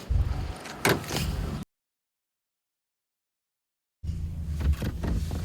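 A car door swings open with a solid thunk, then after a break in the sound another door is handled with a closing thud, all up close against low outdoor rumble in Niagara Falls.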